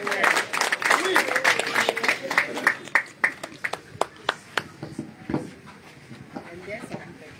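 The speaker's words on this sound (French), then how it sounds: "Est-ce que vous pouvez applaudir pour le secrétaire, s'il vous plaît?" Audience applause for a newly installed secretary at an MRC party unit installation in Cameroon's Littoral region: dense clapping at first that thins into scattered, separate claps and fades out, with some voices underneath.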